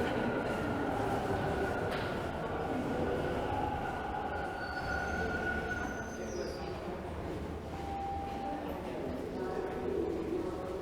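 Toronto subway Line 1 train rumbling through the station, wheels grinding with faint squeals and tonal whines layered over a steady roar, moderately loud with some background voices.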